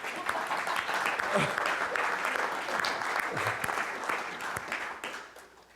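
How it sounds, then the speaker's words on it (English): Audience applause for panelists at a rowing convention, a steady wash of clapping that holds for several seconds and then tapers off, with faint voices mixed in. "Can we give a round of applause while you still like the panelists?"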